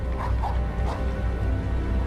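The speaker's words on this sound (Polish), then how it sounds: "wiesz, że ten pies szczekał, a nie wył?" A dog barks a few times in the Harry Potter and the Prisoner of Azkaban video game, short yelps over a steady low rumble of background game ambience.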